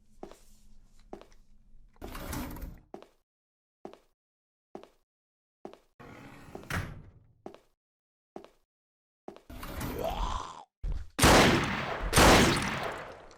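Sharp gunshots from a first-person horror shooter, several isolated single cracks spaced apart, then a louder cluster of two close shots and dense, heavy blasts near the end, with no talk.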